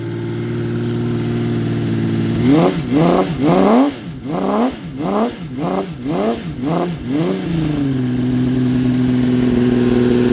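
Honda CBX motorcycle engine idling with the choke off, then blipped through a rapid series of sharp revs that rise and fall, close and loud, settling back to a steady idle.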